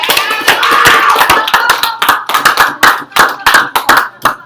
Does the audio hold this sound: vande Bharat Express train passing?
no